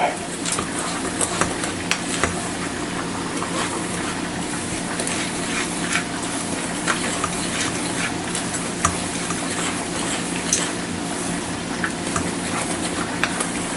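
Ingredients are mixed together while cooking, giving a continuous close scraping and stirring with quick ticking clicks over a low background sizzle, with no voices.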